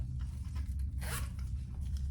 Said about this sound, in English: So these are all the same length zipper with a zipper tab on each end.